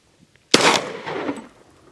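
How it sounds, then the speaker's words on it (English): A single loud, sharp blast from a big automatic gun, with a rolling echo trailing off over about a second after a quiet start. "Oh, that's just a big gun."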